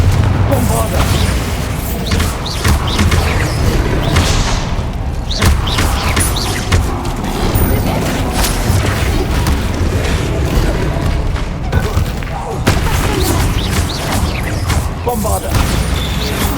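Bombarda and Confringo spell blasts in Hogwarts Legacy combat, a dense continuous barrage of booming explosions and crashes over a game score, loud throughout, with a voice shouting spell names at times.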